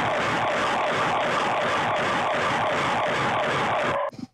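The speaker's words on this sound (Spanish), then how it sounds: "Esa es la alarma, es como una bocina, que es un megáfono" A building's alarm horn blares like a megaphone in a continuous, loud, pulsing wail that fills the space, then cuts off abruptly near the end.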